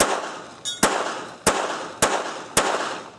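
Four sharp pistol shots ring out at a shooting range in a steady rapid-fire rhythm, each a loud crack with a ringing decay, matching hits on a steel target at long range; a brief metallic clink sounds just before the first shot.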